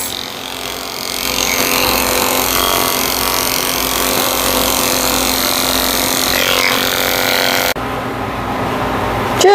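Electric clippers trim the ears of a mixed-breed dog during a shavedown, a steady close motor hum running almost continuously before a brief change near the end.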